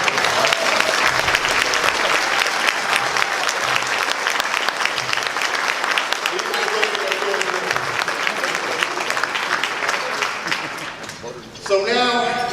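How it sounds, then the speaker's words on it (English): A gala audience at an awards dinner breaks into loud, sustained applause for a group of standing members, dense clapping filling about eleven seconds before fading, with voices mixed in and someone speaking near the end. "Please give them a round of applause."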